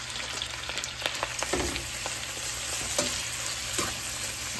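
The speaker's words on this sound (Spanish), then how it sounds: "Aquí se está cocinando ya el camarón" Two pounds of shrimp cook in melted butter with chopped garlic, giving a steady close sizzle broken by scattered scrapes and clicks of stirring.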